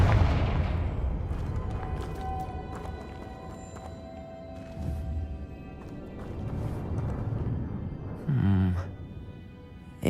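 Hogwarts Legacy spellcasting: a Confringo explosive spell goes off as a short, bright burst near the end, following quieter magical whooshes and ambient game sounds, while someone talks over it.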